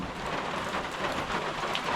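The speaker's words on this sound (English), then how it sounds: "sorry about the rain" Steady rain falls outdoors during a Stihl carburetor repair, a continuous broadband hiss of drops on surfaces that stays even and fairly loud throughout, with no voices.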